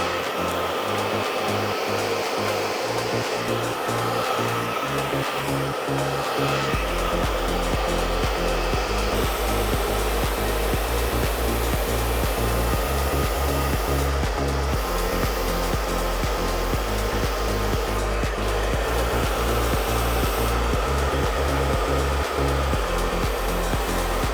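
A hair dryer blows steadily and loudly throughout while hair is smoothed and dried, with a brief shift in its motor tone early on and no voices.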